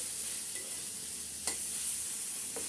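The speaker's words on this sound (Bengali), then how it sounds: "আর একটু আমি নেড়ে চেড়ে চিকেনটা একটু রান্না করে নেব।" Chicken stirred in a pan on a stove, a steady low sizzle with a couple of brief scraping strokes of the spoon, close and fairly quiet.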